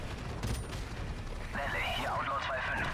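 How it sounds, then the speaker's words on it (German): Gunfire in Call of Duty Modern Warfare Remastered sounds as sharp cracks and bursts early on, followed by a German-speaking voice over continued game noise. "Ich sehe Schüsse aus dem Cockpit kommen."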